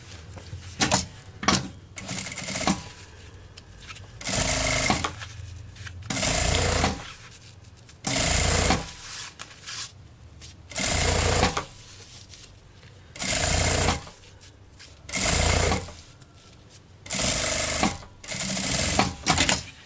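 Sewing machine stitching the lining fabric to the reverse side of a zipper on a small fabric pouch, running in about nine loud, steady bursts of a few seconds each, separated by short pauses and faint handling sounds.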